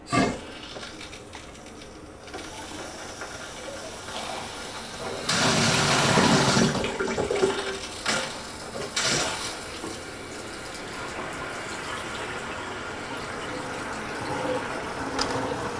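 A bathroom faucet with its aerator removed runs water for a flush of debris, a steady faint rushing stream with a louder gush in the middle and occasional knocks and clatters nearby.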